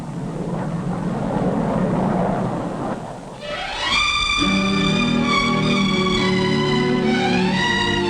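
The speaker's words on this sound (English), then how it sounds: "The first passenger jet clipper to fly the Atlantic." A 1950s passenger jet clipper crossing the Atlantic roars in flight, a loud broad rushing noise that swells into a rising high whine with stacked turbine tones, continuous and close.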